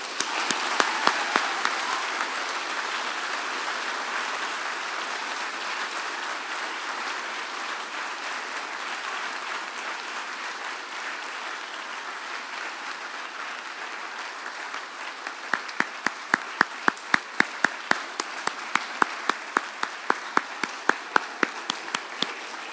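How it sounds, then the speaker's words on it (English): A high school gym crowd applauds veterans at a Veterans Day assembly, a long, steady roar of many hands that gradually breaks into sharp, rhythmic unison claps near the end. "One last time, as loud as you can, another big round of applause for these veterans."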